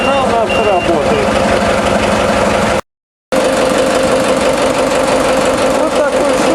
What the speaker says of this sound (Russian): Вот такой шум производит двигатель от ГУМИ 490 при открытом моторном отсеке.